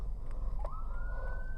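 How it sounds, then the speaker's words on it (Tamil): Ambulance siren coming up behind a car on a one-way road near a spiral roundabout, a faint rising wail over steady low road and engine rumble inside the vehicle. "ஏன்னா ஆம்புலன்ஸ் ஒன்று வருகுது."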